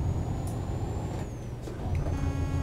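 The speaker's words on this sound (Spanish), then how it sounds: "Compañero, vaya frenazo has dado ahí" A heavy truck in Euro Truck Simulator brakes hard amid rumbling engine and road noise, with a hiss of air brakes and a faint high whine, steady and close throughout, with no talking.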